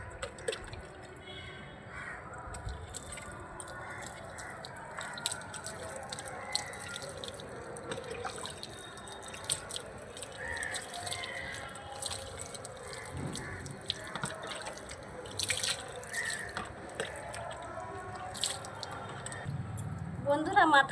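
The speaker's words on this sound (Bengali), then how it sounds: "এবার মাথাটা আমি ভালো করে ধুয়ে নেব।" Hair being rinsed with water after a home remedy: steady running and splashing water with squishy wet handling close by, under a voice talking.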